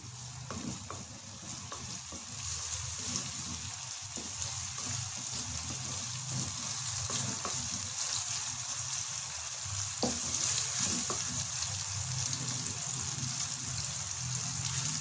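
Tomato stirred into onion and ginger-garlic paste frying in ghee gives a steady close sizzle with soft scraping stir strokes and occasional taps of the spoon, no talk.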